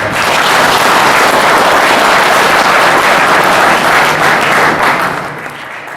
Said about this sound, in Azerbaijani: Sizi alqışlayın.